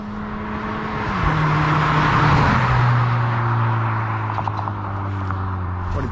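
An orange Audi TT MK2 runs with a steady, loud engine and exhaust drone, and faint, light exhaust pops crackle over it toward the end, with no talk.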